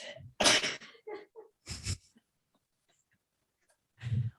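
A person sneezes up close, a sharp loud burst after a quick intake of breath, followed by smaller sniffing and stifled noises and a short quiet gap.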